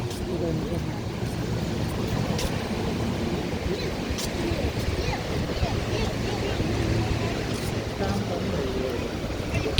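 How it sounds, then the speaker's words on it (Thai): Sea waves wash continuously at the seaside, a steady broadband surf roar mixed with wind buffeting the microphone and no clear pause. "อยู่แคมทะเล"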